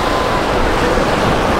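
Stormy sea waves and surf rolling onto the beach at Anapa, a steady broadband wash of churning water with wind noise on the microphone, loud and continuous with no talk.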